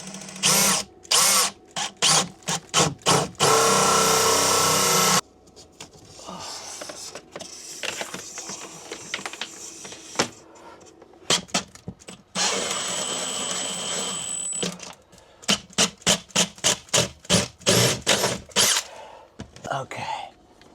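A power drill bores through a van wall to route a Starlink cable, sounding in short loud bursts, with longer continuous runs and pauses between. Speech is present at times between the bursts.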